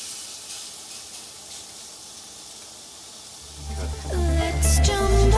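Steak searing in a hot pan with balsamic vinegar to follow: a steady soft hiss that swells into louder crackling sizzle near the end, close by.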